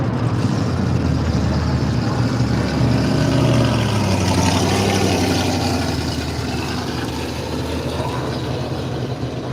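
A Chevrolet drag car rolling through on a drag strip at the Kenda Radial Drags at Willowbank, Australia, its engine a loud rumbling drone that swells and eases over several seconds amid outdoor track noise.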